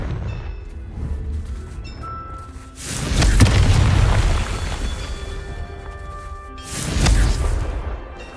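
A Confringo blasting spell from the Hogwarts Legacy video game goes off as two loud, booming explosions, one near the middle and a second toward the end, each rolling into a rumbling tail over quieter game ambience.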